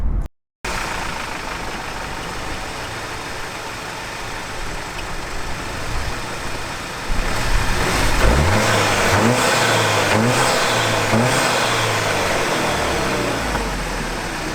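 A VW Golf GTI Mk7 with an Airtec induction kit fitted, engine idling steadily and close, then revved several times in rising and falling swells over the running hum.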